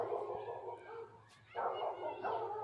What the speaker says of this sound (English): I hear a lot of dogs. There's a lot of dogs.